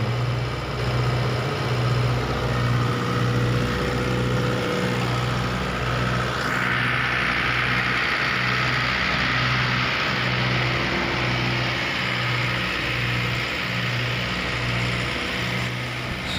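A YTO EMF 604 tractor engine runs steadily while powering a thresher machine, with a continuous loud droning hum and a regular pulsing beat that holds throughout, and its pitch shifts as the thresher takes on load.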